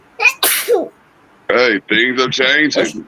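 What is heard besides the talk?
sneeze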